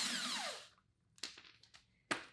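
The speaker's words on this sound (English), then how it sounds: "I'll pull this retaining nut off." Power tool with a socket spinning off the wheel hub retaining nut on a Storm SS: a loud, close whirring burst that winds down, followed by a few sharp metallic clicks and clunks.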